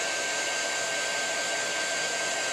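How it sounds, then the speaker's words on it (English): Embossing heat tool blowing a steady, loud rush of hot air, an unbroken broadband whoosh held evenly throughout with no voices. "It's just an embossing heat tool."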